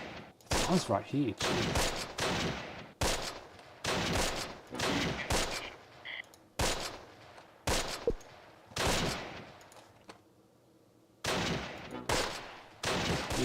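Gunfire in Close Combat: Last Stand Arnhem, repeated sharp bursts of shots at a moderate distance with short gaps between volleys, someone talking quietly in between.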